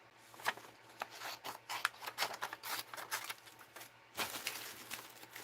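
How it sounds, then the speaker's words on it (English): Scissors snipping paper while fussy cutting pieces for a mixed-media art journal, a quiet, close run of small irregular crisp snips and rustles with a brief pause near the end. "And then I have to fussy cut."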